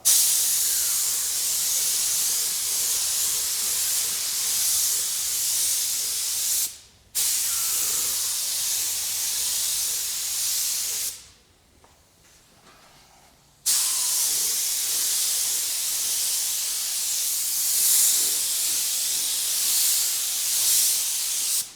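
Candy pink red paint sprays from a gun over a metal flake motorcycle helmet in a long continuous hiss, broken by one brief pause and one longer gap before resuming steadily, close and alone.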